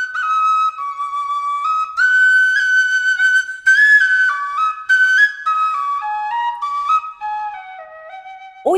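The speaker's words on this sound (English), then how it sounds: "Keep the holes covered at the back and play like a regular tin whistle." An iVolga wooden whistle, a Russian svirel, played with its back holes covered: a clear, close, solo melody of sustained breathy notes stepping gradually downward, with brief gaps between phrases.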